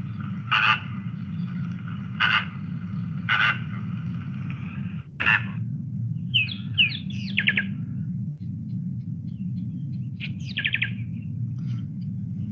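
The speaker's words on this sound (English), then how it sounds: "let's hear how the flamingo." Bird calls played back by a talking picture book for a flamingo: a few loud honking squawks followed by shorter chirping bursts, spaced out over a steady low background hum.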